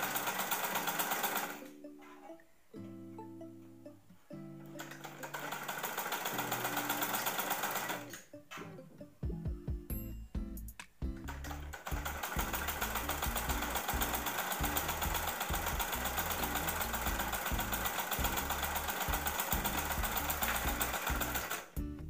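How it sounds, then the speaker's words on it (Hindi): Sewing machine stitching a blouse sleeve, starting and stopping in short bursts at first, then running steadily and loud for a long continuous stretch with a rapid mechanical clatter. "सिलेंगे अच्छी तरीके से"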